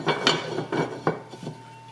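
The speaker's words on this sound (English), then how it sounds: "So we put the lid on it." A pot lid clatters onto a pot of boiling Swiss steak, a few close metallic knocks and rattles at an irregular pace, with no talk.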